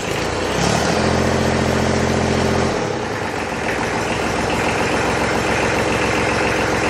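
An old Kubota tractor engine, around fifty years old, idling loud and close with a steady low rumbling chug, a heavier labored tone shifting to an even running rhythm partway through.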